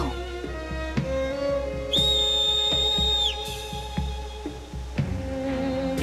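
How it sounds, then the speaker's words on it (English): A high, pure whistle sounds for about a second and a half in the Macalania Forest of Final Fantasy X, over a sustained musical soundtrack with plucked tones. "That whistle."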